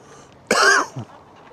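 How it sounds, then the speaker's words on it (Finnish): A single person gives one sharp, close cough followed by a short throat-clearing grunt, set against a quiet outdoor background. "Yksikseskös yskiskelet."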